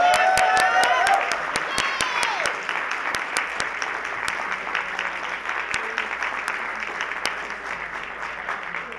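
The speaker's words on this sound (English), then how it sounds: "Can we give Vanessa another big round of applause, please?" Audience at a keynote lecture gives a long round of applause, steady dense clapping throughout with a few sharp individual claps standing out near the microphone.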